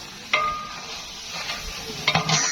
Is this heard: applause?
no